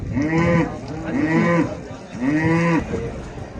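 A yellow cow at an outdoor livestock market lets out three long, loud moos in quick succession, each one drawn out and close by, over a steady crowd murmur.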